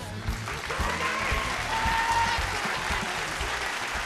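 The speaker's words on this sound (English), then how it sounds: "A big round of applause, please, for Colgate-Palmolive" An audience at a televised vocal competition applauds steadily for Colgate-Palmolive, a dense, even wash of clapping that holds at one level throughout without a break.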